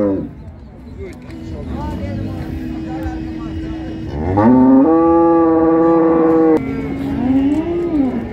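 Heifers moo loudly at a busy livestock market, with several long, drawn-out calls, one rising and held near the middle, over crowd murmur and nearby talk.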